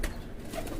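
A pigeon gives a brief, soft coo close by, a single short call against low background noise.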